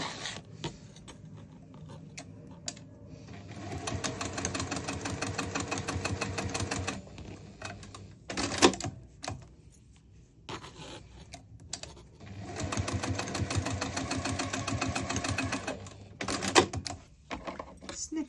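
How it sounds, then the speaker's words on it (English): A sewing machine stitches down both sides of a magnetic bookmark in two steady bursts of whirring, separated by handling noises and short pauses, with speech present. "Now we're going to stitch down both sides."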